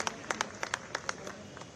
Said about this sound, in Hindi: एक बार जोरदार तालियों से स्वागत करेंगे श्री शिवराज सिंह चौहान जी का।